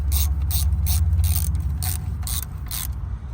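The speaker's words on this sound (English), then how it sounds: "what I'm doing is tightening it just a little bit" A ratchet wrench clicks in quick repeated bursts while tightening thermostat housing bolts on a 2003 BMW 330i, the pawl chatter loud and close, with no talking.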